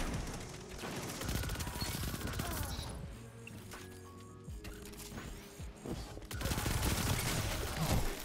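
Continuous rapid gunfire from the Manticore weapon in the video game Destiny 2, dense and loud for the whole stretch, with mechanical clatter and a short lull in the middle.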